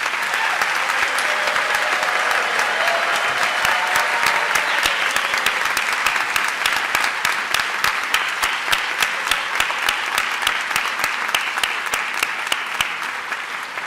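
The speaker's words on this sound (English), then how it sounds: "Let's give them a round of applause" Sustained applause for the graduating School of Pharmacy class of 2015 at a spring hooding ceremony, a dense crowd clapping steadily for many seconds, with individual sharp claps standing out near the end.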